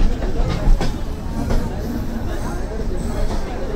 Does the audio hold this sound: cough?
no